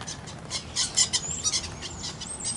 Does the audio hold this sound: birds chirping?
yes